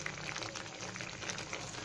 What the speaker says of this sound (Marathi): तोपर्यंत मी कढईत उरलेलं जे बालुशाही आहे ते तळून घेते.